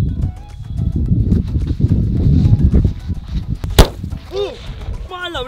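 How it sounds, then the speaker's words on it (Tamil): Sivakasi firecrackers crackle and burst in a dense run of loud pops outdoors, then one sharp bang, followed by whistling, chirping effects as voices react nearby. "ஸோ திஸ் இஸ் கோல் லட்சுமி, வெடிக்க போகிறோம்."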